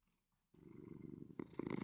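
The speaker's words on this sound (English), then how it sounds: "A very low purr." A cat eating salmon purrs low and soft, a steady close rumble that starts abruptly and grows stronger, with no voices over it.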